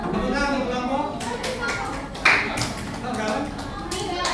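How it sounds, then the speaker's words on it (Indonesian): Students in a high school classroom clap for a presenting group; scattered hand claps mix with ongoing voices and classroom chatter, with one sharper clap standing out midway. "Tepuk tangan untuk kelompok"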